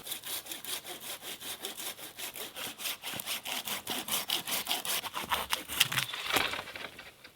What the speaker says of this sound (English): This one's a dead standing tree, so I'm going to take it down for some firewood.